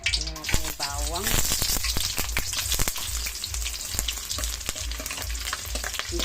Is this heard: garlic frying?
yes